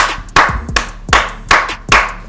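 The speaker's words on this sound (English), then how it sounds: "I gotta clap my hands" Five sharp hand claps spaced about half a second apart, loud and close with no talking in between.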